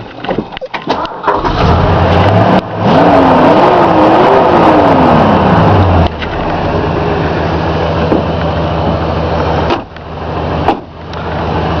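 A 1969 Ford Thunderbird with a 429 V8 cranks and fires up loud and close, revving hard with rising and falling engine pitch before settling into a steady, rumbling idle with a few more blips.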